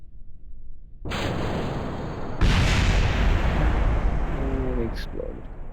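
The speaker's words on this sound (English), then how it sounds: "It exploded." Rocket exploding in Kerbal Space Program, a sudden rumbling roar building into a louder booming blast that sustains and slowly fades, loud and close, with a brief voice near the end.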